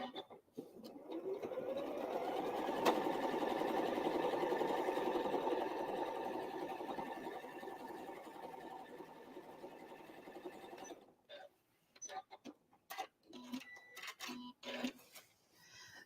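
A sewing machine quilting a scrap place mat runs in one steady, close whirring burst for about ten seconds, then stops, leaving light handling clicks and rustles.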